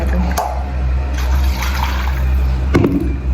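Hot water splashes and gurgles steadily into a container, with a couple of brief clinks and knocks along the way.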